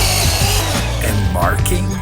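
A power tool cuts steel stock for a rolling tool cart, a loud, close, grinding whine lasting about two seconds while a person speaks over it.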